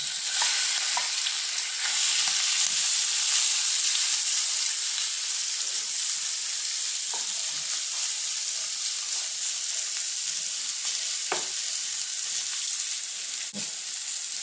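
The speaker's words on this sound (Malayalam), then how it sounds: "ചെമ്മീൻ ഇട്ടൊന്ന് വറുത്തെടുക്കാം" Prawns frying in hot oil for a prawn roast, giving a loud, dense, continuous sizzle with a few brief clicks of stirring on top.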